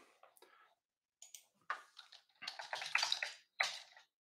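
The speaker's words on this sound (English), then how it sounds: "Got to get used to typing on my" Faint, uneven bursts of typing tap on a computer keyboard near the microphone, arriving in short irregular clusters with brief pauses between them.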